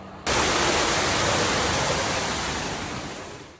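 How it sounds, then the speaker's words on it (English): Indoor waterfall pouring from a wall spigot into a pool, a steady broadband rush of falling water that starts abruptly and holds loud and close, fading slightly at the end. "It's like that perfect white noise waterfall sound."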